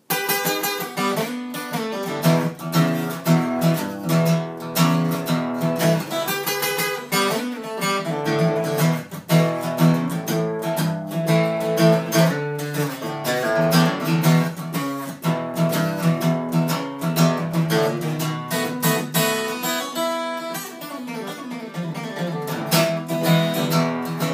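A blues guitar riff plays alone, its bright picked notes and chords moving steadily with a loose, bouncing rhythm, full and close.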